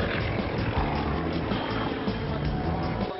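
Sukhoi Su-31M aerobatic plane flying a display at an air show in Poprad, a steady, droning propeller engine roar heard continuously and fairly loud throughout.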